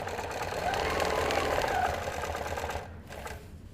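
A domestic sewing machine fitted with a hopping foot stitches steadily in the ditch of a quilt, a continuous close whirring run that eases off and softens near the end.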